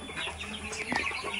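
Chickens on a local poultry farm cluck and chirp close by in short overlapping bursts, with faint background hum and no talking.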